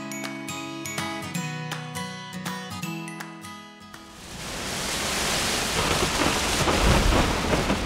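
Music plays for a few seconds, then breaks into steady, loud rainfall with deep thunder rumbling underneath, a continuous wash of storm noise filling the rest of the clip.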